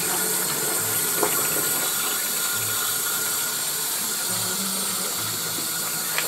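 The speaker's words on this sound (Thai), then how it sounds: "เราก็เอามาล้างน้ำปูนให้สะอาดอีกครั้งหนึ่งนะคะเอาน้ำปูนออกประมาณ3-4น้ำนะคะ" Water running and splashing as candied shark fin melon pieces are rinsed clean of limewater, a steady wash of flowing water with faint knocks and clatter beneath it.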